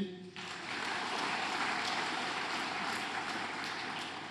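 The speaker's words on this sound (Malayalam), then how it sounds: "ഒന്ന് കൈയടിച്ചേ" Church congregation applauding during a Malayalam sermon, a dense sustained clapping wash that rises after a brief start and holds steady throughout at moderate level.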